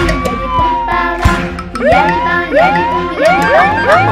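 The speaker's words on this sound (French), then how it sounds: "il y a des camions de pompiers" Cartoon fire truck siren in a French children's song, loud rising wails repeating in quick succession over a bright musical backing.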